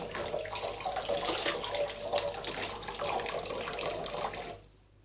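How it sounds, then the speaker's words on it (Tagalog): Water pours steadily from a tap into a pot of chickpeas for hummus, a close, continuous splashing stream that stops abruptly near the end, with no talking. "Nalagyan na natin ng tubig. And maraming tubig."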